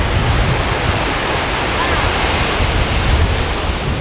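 Steady roar of ocean waves washing onto a beach at Petitenget in Bali, a continuous loud surf wash with no distinct breaks, heard alone without talk.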